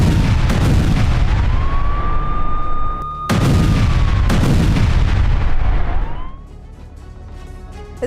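Artillery fire and bombing in the Lebanon border area, with heavy, sustained booming and blasts filling the whole stretch, a high whine or siren-like tone rising and falling over it, and a sharp crack cutting in near the middle.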